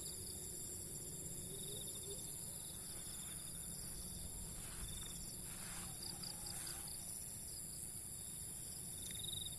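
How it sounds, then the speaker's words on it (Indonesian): Steady high-pitched crickets chirping continuously, faint and even, with soft ambient background and no voices. "Tapi yang lebih dominan adalah suara jangkrik ya"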